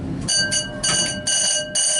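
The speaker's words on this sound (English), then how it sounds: "That's actually one of the original dive bells." An original dive bell on the U-505 submarine rings loudly in repeated electric bursts, roughly five rhythmic on-off pulses with a bright metallic buzzing tone, close and alone.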